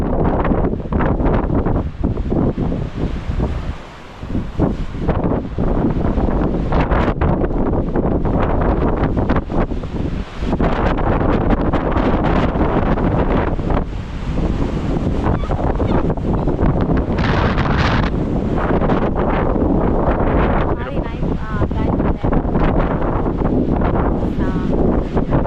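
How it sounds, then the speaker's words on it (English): Strong wind batters the open sea cliffs at Cabo Rojo, Puerto Rico, as a continuous loud roar with heavy gusts buffeting the microphone almost throughout, with a brief lull around the fourth second and faint surf likely underneath. "Super windy over here"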